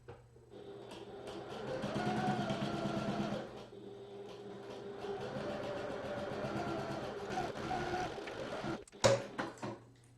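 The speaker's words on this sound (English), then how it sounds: "then we're going to sew along this short edge using our regular seam allowance" Sewing machine stitching a duffel backpack seam, a steady mechanical whir running in two long bursts separated by a short pause, ending with a few clicks and a louder clatter.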